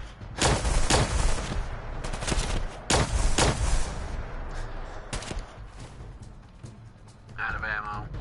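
Gunfire in the game Fallout 4, with sharp loud shots in quick clusters and single bursts, several rapid volleys and a few isolated cracks, ending with a brief tonal sound.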